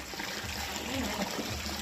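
Water running steadily from a broken household tap, a low continuous trickle and splatter that stays fairly even and quiet throughout.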